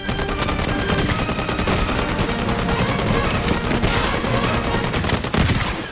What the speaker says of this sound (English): When I'm firing a gun, I'm enveloped in it.